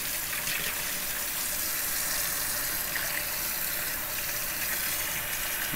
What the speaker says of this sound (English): I'm going to add some warm water to my sink.